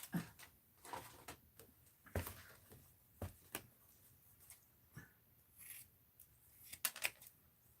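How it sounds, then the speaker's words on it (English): Scissors snip in irregular, crisp bursts, close by and fairly quiet, with soft rustling of material between the cuts. "Now, let's get my other scissors out."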